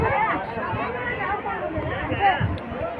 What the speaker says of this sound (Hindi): इतनी भीड़ है मत पूछिए